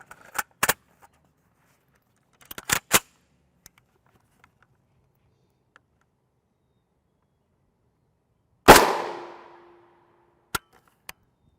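A single sharp gunshot from a 31-grain FN SS190 armor-piercing full metal jacket round striking an HWIN UHMWPE NIJ Level IIIA helmet rings out with a short decaying tail, surrounded by scattered faint clicks and handling noises in otherwise quiet surroundings.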